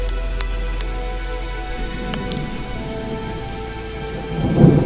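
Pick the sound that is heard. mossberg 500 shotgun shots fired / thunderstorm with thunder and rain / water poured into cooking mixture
thunderstorm with thunder and rain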